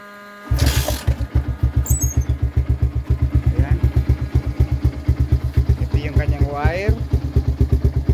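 A motorcycle engine starts and idles with a steady, close chugging pulse throughout, while brief voices are heard over it.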